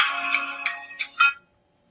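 A phone ringtone plays an incoming-call melody of four bright, close electronic notes, loud and clear, then cuts off into silence.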